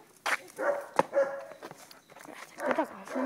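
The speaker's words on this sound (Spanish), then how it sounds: "Había un perrito ahí que nos está asustando." A small dog barks a few times in short, sharp yaps at close range, with people talking in Spanish around it and some light movement noise.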